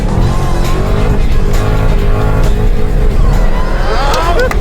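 A race car accelerates hard through a lap, its engine roaring loud and close as the revs climb, with tires scrabbling near the dirt edges of the track.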